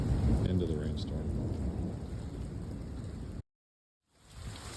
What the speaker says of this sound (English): So we're just, pitter and patter now into the rainstorm.